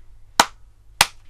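Two sharp hand claps, a beat about half a second apart, sound near and crisp over a low steady hum, part of a rhythm clapping exercise in a grade 4 music lesson.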